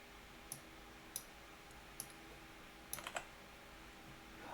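Faint keystrokes tap on a computer keyboard in a quiet room with a steady background hiss. A handful of light, irregular clicks ends in a quick cluster of three.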